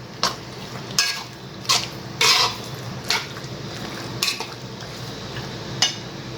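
Boiled pasta is stirred into a white sauce in a pan, with a series of spoon scrapes and clinks against the metal every second or so over a low background sizzle.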